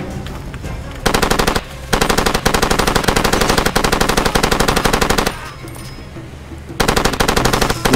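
Far Cry 2 combat with long, loud automatic machine-gun bursts, rapid continuous fire broken by short pauses between volleys.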